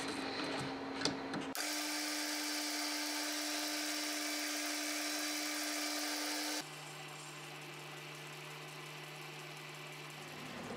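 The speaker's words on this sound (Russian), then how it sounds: "Сейчас обточим, просверлим отверстие." A lathe turns and drills a hole in a steel channel piece meant to hold nuts, giving a steady, close mechanical whine that drops to a lower, rougher hum partway through.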